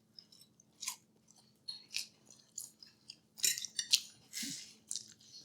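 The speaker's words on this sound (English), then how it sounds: "You can really hear him crunching." Extra crispy batter fried chicken is crunched and chewed up close, a string of sharp, distinct crunchy bites separated by quiet gaps, loud and dry in an otherwise quiet room.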